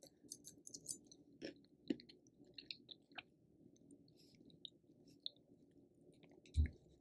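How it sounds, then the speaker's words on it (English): Someone chews cake close to the microphone, with soft, wet, irregular bites and squishes against a quiet background. A louder burst comes near the end. "You guys do not want to hear me chewing."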